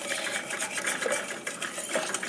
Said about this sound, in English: I'm just gonna whisk that all together